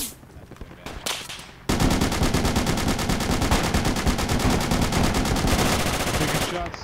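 Sustained rapid automatic gunfire in a video game, a dense unbroken burst of shots lasting several seconds after a few scattered earlier pops, loud and close, with no voices over it.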